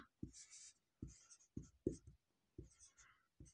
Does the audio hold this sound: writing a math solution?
yes